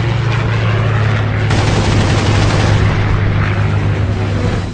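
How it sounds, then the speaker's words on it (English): A fighter jet's cannons fire a short burst during an air combat encounter, a loud continuous roar of rapid gunfire with a steady low drone filling the whole stretch. "I fired a very short burst"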